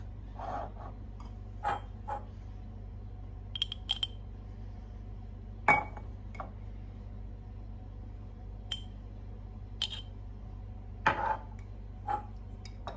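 A spoon clinks against glass yogurt pots while jam is spooned in for homemade yogurt, sparse, sharp taps and chinks at irregular intervals over a quiet hum, no talking.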